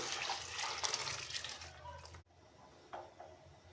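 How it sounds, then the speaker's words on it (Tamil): Cooked horse gram is poured with its cooking water into a pan for rasam, giving a loud continuous splashing pour for about two seconds that stops abruptly, followed by quieter faint sounds of the pan. "நம்ம வேக வச்சு வச்சுருக்கிற கொள்ளு பருப்பை தண்ணியோடு சேர்த்து அப்படியே ஊற்றிக்கலாம்"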